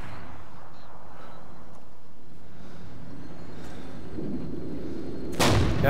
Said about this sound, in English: I hear the tank